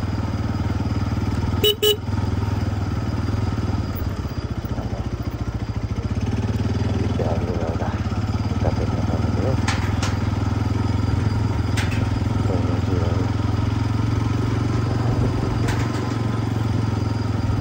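A motorcycle is ridden across the old, high Kushma suspension bridge in 2025, its engine droning steadily and close throughout, with a few brief clanks and no talk.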